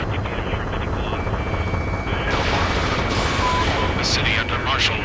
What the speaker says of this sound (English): The city under martial law, gunfire and the roar of jets echoing through the streets.